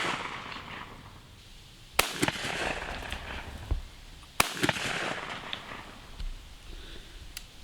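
Gunshots on a farm: two sharp, loud cracks about two seconds apart, each one ringing out into outdoor background noise, with no talk.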